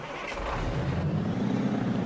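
A modded truck engine in the off-road driving game Spintires rumbles low and steady, building slightly in a short, continuous rev with no talk.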